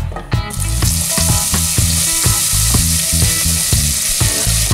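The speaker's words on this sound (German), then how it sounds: "Jetzt kommt unser Öl. Machen wir als erstes unsere Zwiebeln." Onions frying in hot oil in a heated pot for cheese soup, a loud steady sizzle with rhythmic stirring clatter throughout, no voices.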